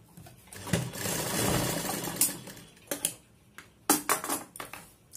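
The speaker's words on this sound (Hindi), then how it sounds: "हम इस तरह डोरी को पकड़ के एक सिलाई लगा देंगे।" A sewing machine runs in one steady burst, stitching a cord onto the neckline of a kurti, followed by a few close, sharp clicks and taps as the fabric is handled, with no talking.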